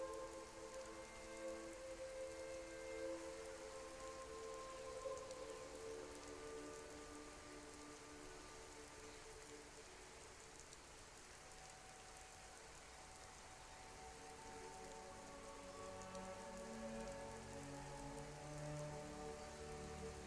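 Steady rain falls and patters on surfaces in a heavily modded video game, a soft continuous hiss with faint droplet detail and no voices.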